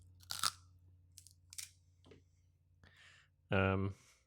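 Crisp bites and crunchy chewing of old celery at a restaurant table, several sharp snaps spaced apart, near and fairly faint, with a loud voice breaking in near the end.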